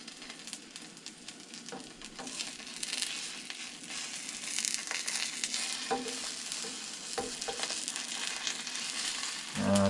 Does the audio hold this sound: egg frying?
yes